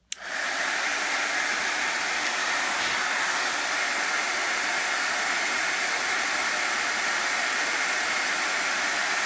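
A heat tool blows a steady, loud hiss of hot air over embossing powder on a card, running continuously without pause after a quick start.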